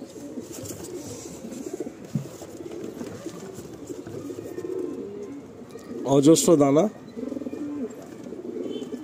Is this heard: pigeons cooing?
yes